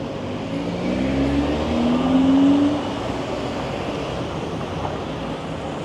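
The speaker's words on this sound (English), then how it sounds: "Lots of traffic." Steady traffic rumble on a downtown street at night near Adelaide Street in Toronto, a continuous broad wash of passing cars with a low engine drone swelling briefly, no talking.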